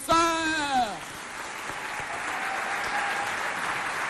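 A crowd applauds the school censor at a Chad television festival show on reproductive health education, a sustained wash of clapping following a brief voice at the start.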